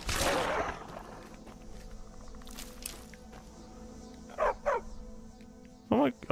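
A dog barks in Skyrim, with a few short yaps spaced apart over faint game ambience and a louder burst at the start.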